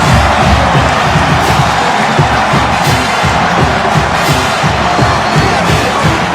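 A rowdy stadium crowd roars loudly and continuously at a 2016 college football game between West Virginia and TCU, with whoops and shouts in a dense, unbroken wall of noise.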